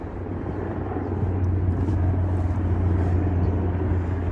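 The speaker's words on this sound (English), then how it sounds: "what you hear now is a helicopter that comes flying over" A helicopter flies overhead, its deep rotor thump and low engine rumble growing louder over the first seconds and then holding steady and strong, with no talk over it.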